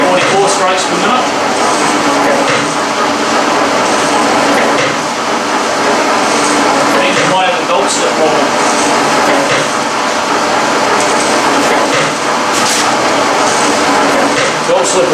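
A Churchill Redman metal shaper runs at about 44 strokes per minute, its loud rhythmic clunking cycle repeating roughly every second and a half inside dense machine noise, with a person talking throughout.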